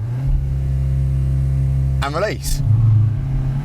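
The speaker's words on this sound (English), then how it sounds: "I'm going to put the car in sports mode, traction control off, and I'm going to do a launch control." A Cupra Ateca SUV in sports mode with traction control off launches hard, a steady engine rumble under a voice swelling into a revving surge as the brake is released.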